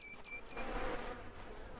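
Bees buzz around beehives on a farm in Farmer's Dynasty, a soft, steady insect drone close by with a few brief higher tones at the start, heard alone.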